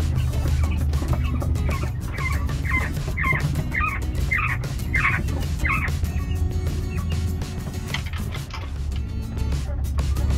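Coturnix quail rooster crowing at night near an outdoor hutch, a short run of repeated chirping calls midway through, partly masked by a loud steady low hum of background noise.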